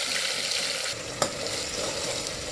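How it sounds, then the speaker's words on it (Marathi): Freshly made masala of raw ground onion and tomato dropped into hot oil in a pan for dal, a steady loud sizzle throughout with one brief stirring knock midway. "तेल गरम झाल्यानंतर त्यामध्ये आपण आता बनवलेला मसाला"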